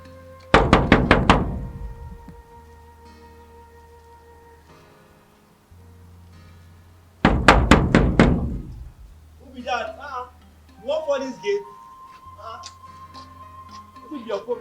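Two bursts of rapid, solid knocks on a door, several seconds apart, with voices speaking after the second round.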